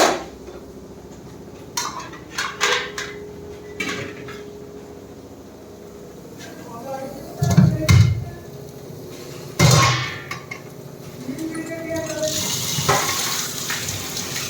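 Freshly cut fish pieces rinsed in water in a home kitchen, with scattered clinks of pots and utensils, a few louder knocks, and running water splashing near the end.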